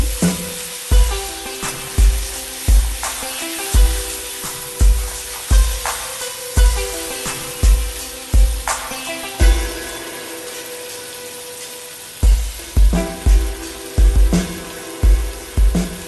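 Masala mixture for raw banana kofta sautéing in a pan, loud close sizzling with regular thumping stirring strokes about once a second, briefly pausing before resuming.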